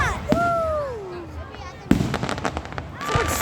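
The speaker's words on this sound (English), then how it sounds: "every time I see fireworks, it always looks like it's coming at you" Fireworks burst overhead at a show after a Cougars game, with whistling rising rockets followed by a sharp loud bang and a rapid crackling cascade, while people talk and cheer nearby.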